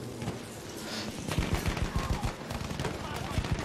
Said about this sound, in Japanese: さあ、左から銃声。